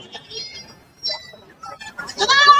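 At a goat market, a Thalassery goat kid bleats in short wavering cries, with a louder, longer bleat at the end amid nearby market noise.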